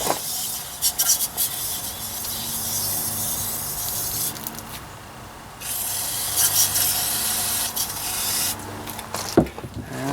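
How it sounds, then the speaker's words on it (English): Bursts of hissing brake cleaner spray on a John Deere 2032R tractor with a fuel issue, loud and close, stopping and starting several times over a steady background with occasional rubbing noises. "I'm just going to give her a brake clean spray here."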